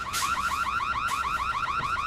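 A car alarm blares steadily in a late-1990s French street scene, its loud, rapid warbling siren repeating in even cycles with nothing else audible.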